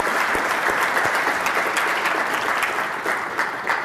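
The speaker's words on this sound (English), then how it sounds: "So can you join me and give an applause to W3C?" Applause from a conference audience at a 2011 web developers' event, dense and loud continuous clapping filling the room without a break.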